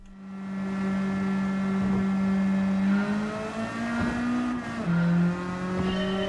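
Nissan R32 race car in Gran Turismo 7, engine droning loud and close with a steady high note that climbs through gear changes, plus a brief dip and tire noise, no talk.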